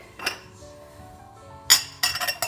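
A cooking pot's lid clinks shut with a couple of bright metallic knocks, with a small earlier clink, near and clear in a quiet kitchen while sweet potatoes simmer for baby food.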